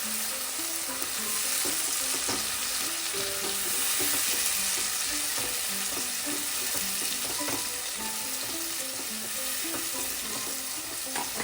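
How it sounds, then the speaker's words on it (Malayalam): Tomato puree sautés in a pan for a Matar Paneer base, making a continuous close sizzle with repeated spoon stirs and scrapes knocking against the pan. No one speaks over it. "ഇനി നമുക്ക് ഇതിലേക്ക് ടൊമാറ്റോ പ്യൂരി ചേർത്ത് കൊടുക്കാം. അത് ചേർത്ത് നന്നായിട്ടൊന്ന് വഴറ്റിയെടുക്കാം."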